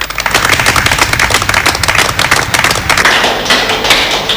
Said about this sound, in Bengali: চট্টগ্রাম ও খুলনা সহ দেশের বিভিন্ন এলাকায় সম্মুখ সারির করোনা যোদ্ধাদের করতালির মাধ্যমে অভিবাদন ও কৃতজ্ঞতা জানিয়েছে দেশবাসী